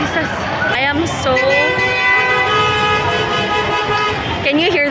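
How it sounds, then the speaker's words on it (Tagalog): Car horns honk in heavy traffic on a busy road, one long sustained blast held for several seconds with shorter toots around it, loud and close, with people talking underneath. "Can you hear the honk?"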